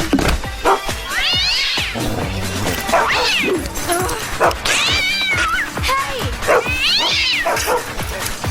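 A cat meows and yowls loudly several times in drawn-out cries, amid clattering and scuffling noises nearby.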